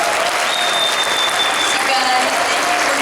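Audience applause at a comic con panel with Futurama voice actors, a steady, dense clapping from a large crowd that fills the whole stretch, close and loud, with faint voices mixed in.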